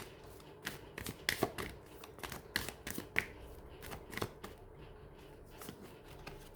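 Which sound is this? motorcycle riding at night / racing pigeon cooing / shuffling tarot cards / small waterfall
shuffling tarot cards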